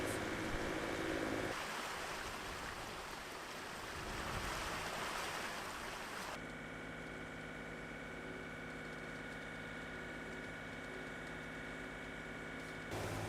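A sailboat motors across calm open ocean, its engine a steady low drone under a soft, constant wash of water and gentle waves.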